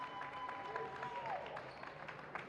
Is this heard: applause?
yes